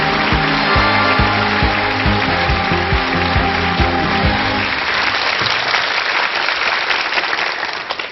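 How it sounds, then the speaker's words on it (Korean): Loud, sustained applause from a large audience at a Korean public lecture event, steady clapping that fills the room and fades slightly toward the end. "박수로 청해 주십시오."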